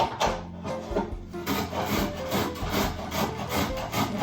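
Beets are grated by hand, with steady back-and-forth rasping strokes on a grater, close and clear, continuing in a regular rhythm.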